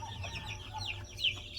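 Chickens cluck softly while pecking at feed, a faint, close scatter of short clucks and chirps over low background hum, no talking.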